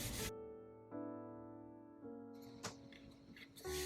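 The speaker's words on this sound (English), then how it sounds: "Burnish, but don't burnish on top where your magnet is." A burnishing tool rubs over paper on a scrapbook mini album page, giving a few short scraping strokes close up, separated by pauses, with a louder rub at the end.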